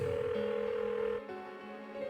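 Unanswered phone ringing in Persona 4, a steady electronic ringing tone close and alone, with a brief shift in pitch partway through.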